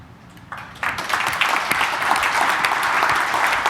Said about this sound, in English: A round of applause to thank F5 Networks and Intel.